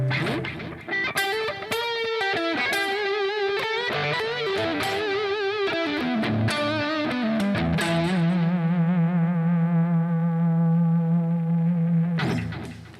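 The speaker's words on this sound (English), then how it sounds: "Now you can see that middle position, single coil, it sounds almost like a humbucker" Electric guitar on the middle single-coil pickup plays a quick run of distorted notes, then holds one long sustained note that rings for several seconds before cutting off, loud and close with no talking.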